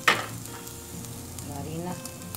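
Corn kernels fry in a pan for poblano pepper soup, a soft steady sizzle with a brief sharper crackle at the start and faint scraping toward the end.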